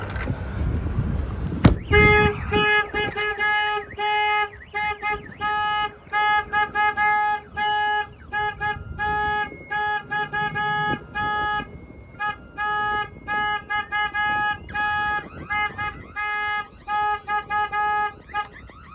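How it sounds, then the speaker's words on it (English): A semi truck's security alarm, set off remotely, blares a loud electronic tone in rapid repeating pulses and bursts that run almost continuously after a brief noisy start. "I'm going to go ahead and fire off the alarm."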